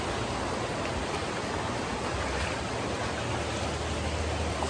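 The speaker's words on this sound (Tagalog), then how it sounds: "Umaambon pa." Steady light drizzle outdoors near a bamboo bridge, a continuous even hiss of fine rain with no distinct drops or voices.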